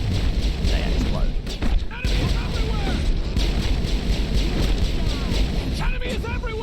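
Buildings blowing up in the Mass Effect video game produce repeated deep booms and thuds amid dense battle noise, with a voice talking faintly underneath throughout.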